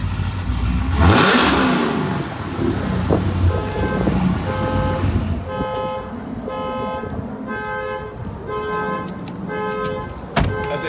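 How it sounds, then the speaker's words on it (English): A car alarm sounds near a Dodge Demon, giving a steady run of repeating electronic tones, while a loud engine rev and whooshing vehicle noise come first. "That's a cheap alarm."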